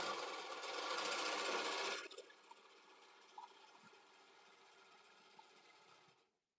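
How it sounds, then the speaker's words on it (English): Sewing machine stitching the crotch seam of a garment, a loud fast whir for about two seconds, then a quieter steady motor hum with faint clicks before it stops. "I'm gonna sew up the front crotch and the back crotch"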